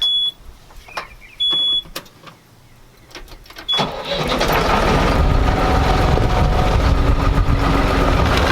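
A skid loader engine cranks and catches at about four seconds, then settles into a steady heavy rumble, preceded by a few high electronic beeps and quiet clicks.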